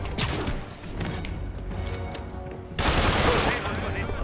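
Explosion and gunfire from the Marvel's Spider-Man PS4 video game: a dense, continuous barrage of shots and crashes, with a louder burst of blast and impact noise near the end, all close and loud.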